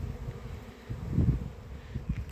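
Honeybees flying around apiary hives on a warm spring day after a cold morning, a low, diffuse buzzing hum from many insects that swells briefly and then settles, heard at moderate distance.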